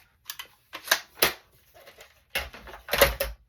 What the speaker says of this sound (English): the other two I'm going to cut with the border tool